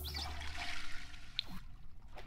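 Toilet flushing in The Sims 4, a short, faint rush of water that swirls and drains away over about two seconds, heard alone with no voices.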